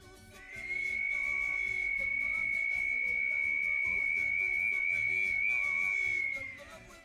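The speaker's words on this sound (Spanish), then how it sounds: "Y aquí vamos a mostrar la réplica que ya está con el sonido, con los silbatos arreglados" A single high, steady whistle tone from a replica ancestral Andean whistle rises in and holds for about six seconds before fading, clear and alone.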